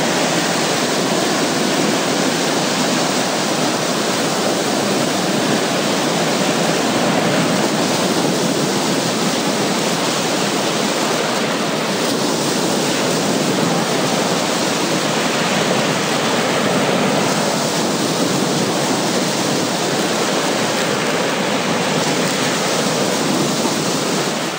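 Waves break steadily on the shore of Lake Baikal in a continuous, loud, broad roar of surf mixed with wind, without pause or talk.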